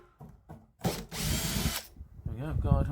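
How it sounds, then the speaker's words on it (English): A power drill bores a hole through a plastic barrel: a short trial burst, then about a second of loud, steady whirring as it cuts, followed by a brief grinding finish and a voice speaking close by. "I'm going to drill a hole, roughly the right size."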